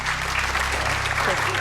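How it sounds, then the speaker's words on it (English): Audience applause on the Golden Balls game show gives dense, steady clapping from a studio crowd, moderately loud and continuous, with a voice talking over it. "and people are clapping."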